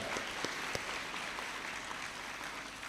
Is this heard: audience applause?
yes